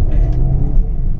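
A Suzuki Ciaz sedan on a test drive cruises at speed, producing a steady, loud low road-and-engine rumble from inside the cabin, with no voices over it.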